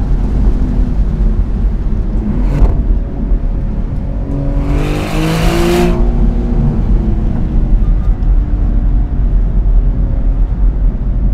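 A Maserati GranCabrio Trofeo in sport mode pulls hard on a winding road, its engine a steady, loud, close drone with a brief swelling rev in the middle, heard from the cabin with no talk.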